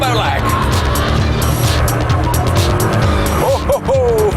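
A 700-horsepower turbocharged Gumpert Apollo S roars loudly at close range with a steady engine drone, then its tires squeal in sharp bursts near the end as the rear steps out.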